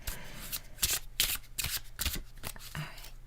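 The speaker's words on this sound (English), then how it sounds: "I feel like it's the last card that was just shuffled there." Oracle cards are shuffled by hand in quick, close riffling bursts, a series of crisp papery flicks and slaps repeating about every half second.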